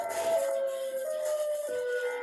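A wavering electronic siren tone in an SCP Foundation video game rises and falls steadily over a dense synthetic backdrop, loud and continuous.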